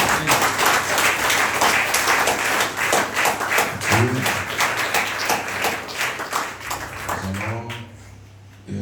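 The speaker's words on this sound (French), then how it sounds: "Et acclamons très fort le Seigneur Jésus-Christ" A church congregation claps loudly and continuously in praise of Jesus Christ, a dense roar of many hands that thins toward the end, with a few voices calling out over it.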